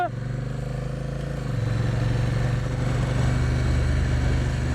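Honda Rebel 1100 motorcycle being ridden, its engine droning steadily and close with a low rumble that shifts in pitch partway through, as if changing speed or gear.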